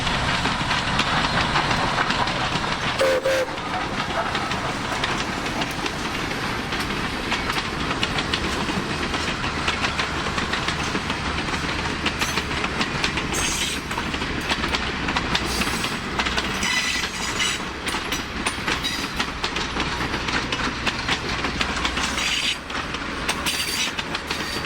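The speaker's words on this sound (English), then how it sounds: "On the outskirts of Summerville, we see the train hustling into town" A steam-hauled passenger special rolls into Summerville in the Tennessee Valley, a loud, continuous rumble with wheel clatter and rail noise that stays steady throughout.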